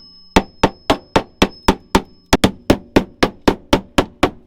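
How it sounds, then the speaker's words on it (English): A hammer gives about fourteen sharp, close, evenly spaced taps with one brief pause, knocking old sound deadening material off a car's metal panel; no one speaks. "just tap it out with a hammer like you can see right here"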